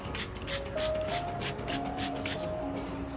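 Liquid fertilizer sprayed onto an orchid plant: a series of short, close hissing bursts of mist, repeated about a dozen times in quick rhythm, with a faint steady tonal hum underneath.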